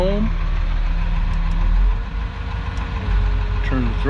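A backhoe excavator's diesel engine idles steadily after being throttled down, a low continuous rumble with a brief dip in level midway, heard close up and alone.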